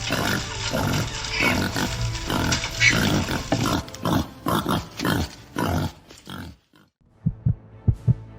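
A herd of wild boars trapped in a corral grunts and squeals loudly and near, in dense overlapping bursts that thin out into a few scattered grunts.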